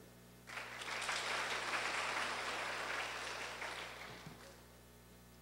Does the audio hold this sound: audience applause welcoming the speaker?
yes